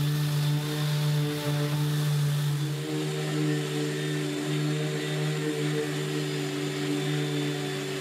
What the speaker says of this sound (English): I'm using a random orbital sander and starting with P120 abrasive, working my way through to finish with P320